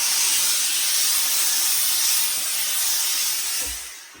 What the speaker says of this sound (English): Now I think what we're going to do is put some steam in it and try and put some shape in it.